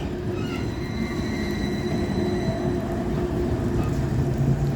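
An old tram rolls through the streets of Lviv, Ukraine, a steady close rumble of wheels on rail with a faint metallic whine riding above it the whole time.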